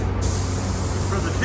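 A spray gun lays down a white first coat on the tailgate of an 1986 Bullnose Ford F150 under restoration, a loud, close, continuous hiss of atomized paint.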